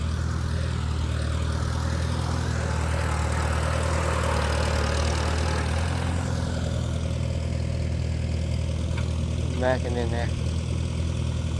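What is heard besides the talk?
Super C tractor engine idling at a tractor show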